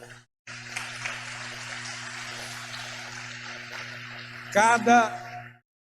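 A church congregation at a Sunday celebration service breaks into steady, sustained applause for about four seconds over a low hum, then a louder voice briefly rises at the end as the clapping fades.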